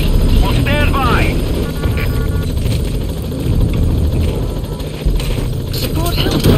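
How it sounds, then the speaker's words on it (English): A support helicopter in the video game Metal Gear Solid V touches down, its steady loud rotor roar and engine hum continuing throughout, with radio-style voices talking over it. "Support helicopter has arrived."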